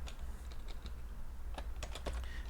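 JavaScript code being typed on a computer keyboard, a quick irregular run of close key clicks over a low background hum, with no one talking.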